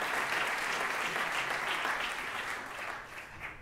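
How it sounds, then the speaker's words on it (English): Audience applause at a tourism event, steady dense clapping from a crowd that gradually tapers off toward the end. "Another round of applause, please, for Siom Satira."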